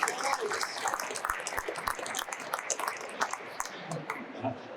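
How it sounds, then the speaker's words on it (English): A group claps in a round of applause, dense and fairly steady throughout, with people talking and calling out over it. "Round of applause, everyone."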